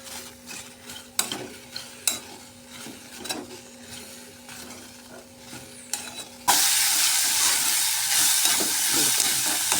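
Food is stirred and dry-roasted in a pan in a home kitchen, a few scraping knocks of the spoon, then a loud steady sizzle takes over for the last few seconds.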